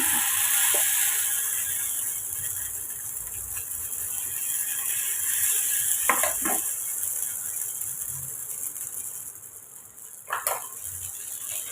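Idli batter poured onto a hot pan for a bun dosa, giving a steady close hiss with a few brief scraping clicks, no voices.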